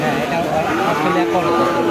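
Cattle moo in a busy cattle market in Pabna, Bangladesh, including black and Australian crossbreed cows, with layered lowing calls over a steady crowd murmur and background voices.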